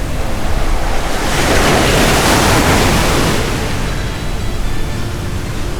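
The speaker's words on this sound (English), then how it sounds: "There is a little bit of surf here." Ocean surf breaking along a resort-lined beach, a steady broad roar of waves that swells in the middle and eases off, with some wind noise on the microphone and no talking.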